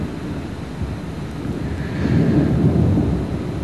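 Low thunder rolls steadily through a thunderstorm under falling rain, a broad sustained rumble that swells a little louder partway through.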